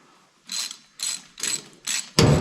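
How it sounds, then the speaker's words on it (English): Five bursts of socket wrench ratcheting, close and clear, while a Kozyheat Z42 fireplace fan is installed; four evenly spaced clicking runs, then a louder, heavier fifth. "I grabbed a socket wrench."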